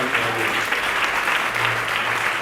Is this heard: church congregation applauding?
yes